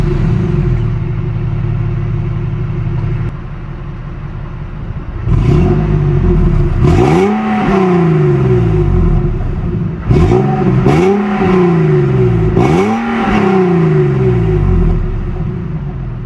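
A 2011 Infiniti G37 sedan with its stock exhaust before a cat-back replacement idles loudly, then is revved in repeated sharp bursts, each rising and falling back to a deep, steady idle.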